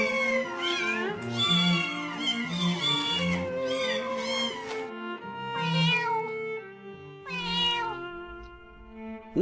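A kitten meows again and again, a run of close, clear, high cries separated by short pauses, with no talking over them.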